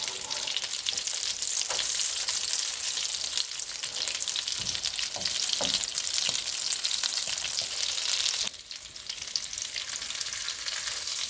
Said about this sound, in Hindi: कबाब फ्राई हो गए